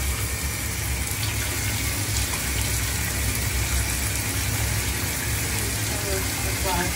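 Tap water running steadily onto a lid while rinsing in a bathroom, a constant close gushing hiss throughout with a low hum beneath it.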